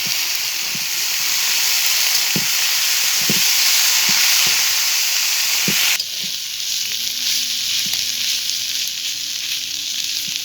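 Drained banana flower frying in oil with grated coconut, a loud continuous close sizzle with several sharp stirring knocks, the hiss dropping and settling when the pan shifts midway.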